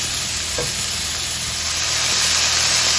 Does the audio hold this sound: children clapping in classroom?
no